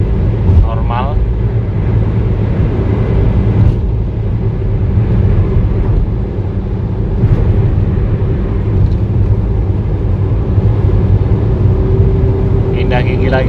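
A Ford EcoSport Titanium's engine hums steadily under acceleration at speed, with brief dips that suggest gear changes, under constant road and wind rumble while someone talks throughout.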